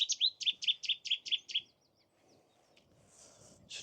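A Cetti's warbler at Rainham Marshes bursts into a loud, close song of about eight sharp, rapid, identical notes, then falls quiet. Faint chirps from other birds follow.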